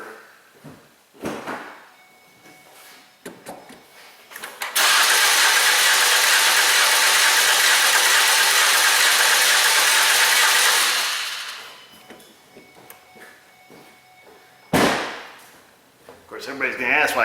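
A Ford Escape engine with its spark plugs still installed cranks on an ECM-controlled starter at full throttle. A loud, steady churning run of about six seconds sits between quieter clunks and handling noises.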